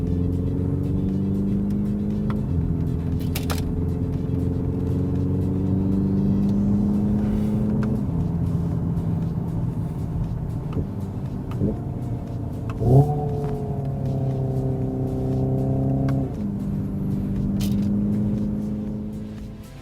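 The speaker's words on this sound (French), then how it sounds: "Écoutez bien le bruit, nous sommes au volant d'une voiture électrique" A Hyundai Ioniq 5 N electric car plays a simulated combustion engine sound from inside the cabin, with a steady droning tone that steps up and down through gear-change-like shifts over about twenty seconds.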